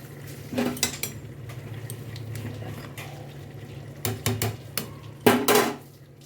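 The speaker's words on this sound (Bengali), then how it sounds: "আমি এবার ভাতটা উপর দিয়ে দেবো" Cooked rice is layered into a pot over chicken for biryani, with a few sharp metallic clinks and scrapes of a spoon against the pot amid quiet pauses, close by.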